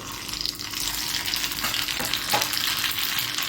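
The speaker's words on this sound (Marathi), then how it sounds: "तेल तापलेलं आहे आणि त्यामध्ये आता आपल्याला तडका टाकायचा तर मोहरी टाकते" Mustard seeds sizzling and crackling in hot oil for a tadka, a dense bright fry with a few sharper pops, close up and continuous without talk.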